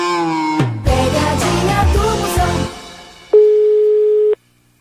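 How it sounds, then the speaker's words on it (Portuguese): A steady electronic tone on a phone line, held for about a second near the end, follows a busier stretch of harmonic, music-like sound; the line is loud and clear, with no talk. "Me deu o sinal de fax"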